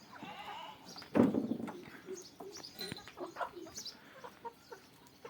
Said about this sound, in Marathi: पाहू शकता गावरान कोंबड्या